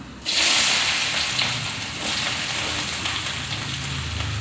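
Mustard seeds and onion frying in hot oil, a steady dense crackling sizzle starting abruptly and continuing close and fairly loud throughout, with no talking.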